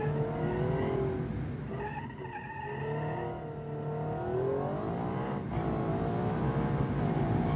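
A car in a Pikes Peak racing video game with a steady engine drone that rises and falls as it is driven, with some tire squeal mixed in. No one speaks over it.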